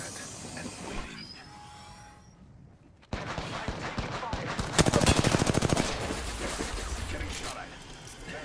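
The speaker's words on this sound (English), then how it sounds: "Getting shot at." Gunfire in the battle-royale shooter Apex Legends during a late-game ranked match. A sharp burst of sound cuts in after a quieter lull, followed by a rapid, loud automatic-weapon volley of closely spaced shots that trails into continued combat noise.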